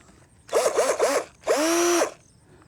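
A power drill on a small farm job runs in three quick revving bursts followed by one longer sustained whine, loud and close, with no talk.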